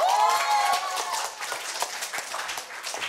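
Brief clapping from an audience of middle school students at a speaking festival, quick uneven hand claps with a voice speaking over the start.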